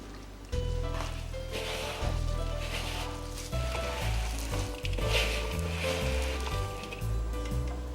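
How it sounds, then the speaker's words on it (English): Coconut milk poured into a hot pan for date chocolate bars, sizzling and crackling steadily and close up, with a low hum running underneath throughout. "So the coconut milk goes in."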